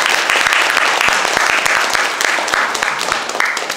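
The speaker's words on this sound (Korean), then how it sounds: "박성진 대표님 큰 박수로 맞이해 주시길 바랍니다." A seated audience at a talk concert applauds to welcome a speaker, steady dense clapping close by that carries on throughout and fades slightly toward the end.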